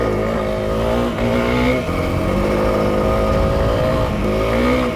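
Honda CRF300L dual sport motorcycle engine running loud and steady close by, revving up and down with a stock exhaust while riding a day trip, no talking.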